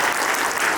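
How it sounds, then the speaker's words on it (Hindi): An audience at a school event gives a brief, dense burst of loud clapping. "एक बार तालियां बजाएंगे जोर से"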